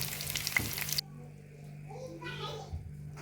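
Chopped onion with dried and green chillies frying in oil: a bright, dense sizzle for about a second, then a quieter stretch where voices talk over a faint background.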